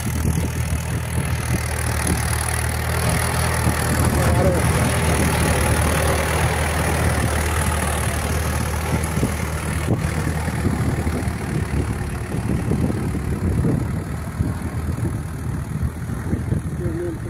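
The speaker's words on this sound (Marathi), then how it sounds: "सोयाबीन ट्रॅक्टर पेरणी यंत्र आलेलं आहे बघा" A tractor pulling a soybean seed drill runs steadily with a low mechanical drone and rattling, close by in a field during sowing, while people talk intermittently over it.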